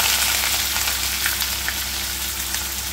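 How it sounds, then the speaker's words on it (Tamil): Onions sizzling in hot oil for a samba wheat rava kitchidi, a steady close hiss and crackle with faint stirring clicks, no voices. "இந்த வெங்காயம் போடப்போகிறோம்."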